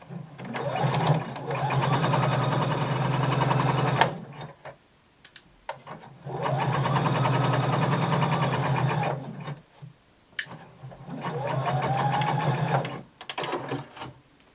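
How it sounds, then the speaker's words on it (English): A sewing machine stitches the side seam of a flared skirt in three long, steady whirring runs, each several seconds long, separated by short pauses with faint handling clicks and no speech. "starting at the bottom, working our way up, we're going to sew our side seam"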